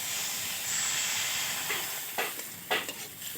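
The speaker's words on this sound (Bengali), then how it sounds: "এখন আমরা দিয়ে দেবো জল" Water hits a pan of frying radish curry, a loud continuous sizzling hiss, with a few stirring scrapes toward the end.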